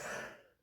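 A short throat-clearing cough from someone with a cold, loud at first and then tailing off into a breathy fade, heard alone.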